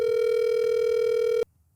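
A steady telephone dial tone holds for about a second and a half, loud and unbroken, then cuts off abruptly into near silence, heard while placing a call on a call-in show.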